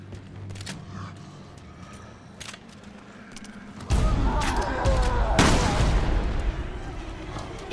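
Gunfire in Resident Evil Revelations 2 inside an experimental facility, scattered shots at first, then a sudden loud, sustained blast of noise and booming impacts that dominate the second half.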